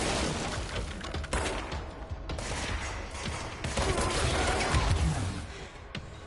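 Rapid gunfire from shooting in the video game Control, loud bursts of automatic fire rolling almost continuously with mechanical clatter over the game's background.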